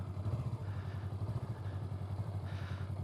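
A cruiser motorcycle engine runs at low revs with a little throttle during parking lot practice, giving a steady, close, pulsing thump that lifts slightly in pitch near the end, with no talking.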